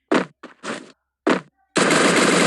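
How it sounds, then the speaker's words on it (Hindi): MP40 submachine gun fire in a video game: three short separate bursts, then a longer sustained automatic burst, loud and close with no talk over it. "इस बंदे को कितना MP40 की बुलेट्स चिपकाता हूँ"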